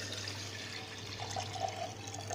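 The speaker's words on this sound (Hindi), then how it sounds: "तो हूँ मैं ये ना दो कु गिलास के करीब पानी पावगी।" Water pours into a pressure cooker set on a gas stove for making dal, a steady close splashing rush that runs continuously without pause.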